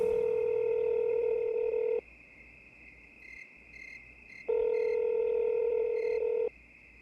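An outgoing phone call rings back in two long electronic tone bursts separated by a quiet gap, loud and close, with faint short beeps in between.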